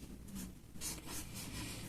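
Pen or marker writing a letter on paper while making a paper horror mask, a soft steady scratching with a few brief louder strokes, close and alone.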